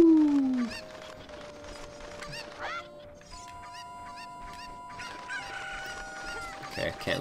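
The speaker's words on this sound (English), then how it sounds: "Okay, can't lose that chicken now." A chicken clucks in the video game Ocarina of Time, short squawks and clucks ringing out over the game's music and sound effects.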